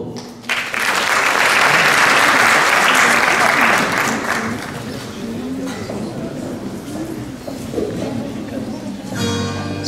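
An audience at a formal ceremony for a Turkish poetry recital bursts into loud, dense applause that swells for a few seconds, then thins out as a speaker begins addressing the hall.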